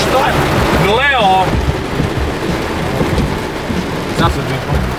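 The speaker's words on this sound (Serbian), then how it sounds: "Ola, pada kiša, šta je?" Heavy rain drumming on a car from inside the cabin, a loud dense wash of noise throughout, with a voice speaking briefly over it.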